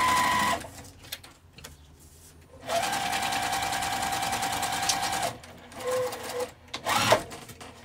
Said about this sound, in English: I'm just sewing along the very edge.